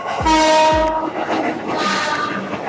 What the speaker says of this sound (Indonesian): ada suara kereta juga